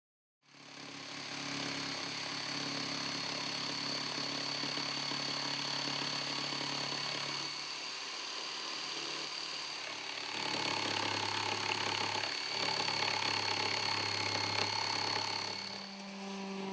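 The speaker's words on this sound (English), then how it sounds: "use a jigsaw or coping saw to cut the curved radius on the right and left side rail" A jigsaw cuts a curved radius into a Murphy bed side rail, a steady, loud motorized buzz that holds for over ten seconds and shifts pitch slightly as the blade follows the curve, then stops at the end.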